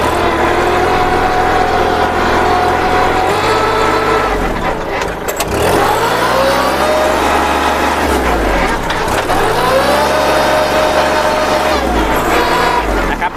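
Kubota L3608 four-wheel-drive tractor with a direct-injection diesel engine, running steadily close by with a low rumbling drone that surges and dips in pitch a couple of times, as if revved, with no voices over it.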